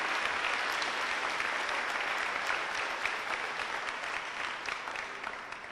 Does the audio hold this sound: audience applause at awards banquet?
yes